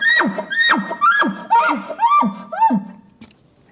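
A voice imitating an elk bull's chuckle call, about six rapid rising-and-falling grunting notes pushed from the diaphragm in a steady cadence, close and loud, then a brief pause.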